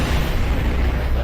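A Dire Wolf mech fires its weapons in the video game MechWarrior Online. The loud, dense rumbling blasts of the weapon fire run continuously through the short moment.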